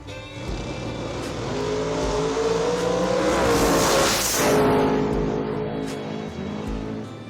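A Corvette drag racing car roars close by at a drag strip, its engine revving and rising in pitch as it accelerates and passes, swelling to a peak midway before the sound trails off.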